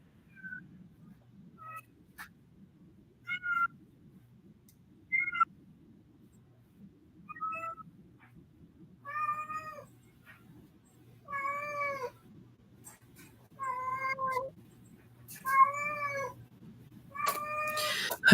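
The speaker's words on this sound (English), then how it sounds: "in the background, you're hearing my cat meowing." A pet cat meows repeatedly indoors, close and clear, with about ten separate calls spaced a second or two apart that grow longer and louder, over a faint low hum.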